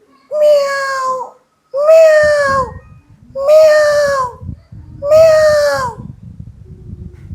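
Someone imitates a cat with four long, drawn-out meows at a steady pace, clear and close, while a soft rustling background rises after the first call.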